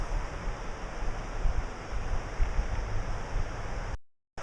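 Steady broadband rushing of a river flowing past a wooded autumn setting near an old coach's house, even and continuous with no talk.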